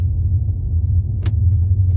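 A car driving with a steady low engine rumble throughout, suspected of running rough since a part was fitted to it; a few faint high clinks sound briefly near the end.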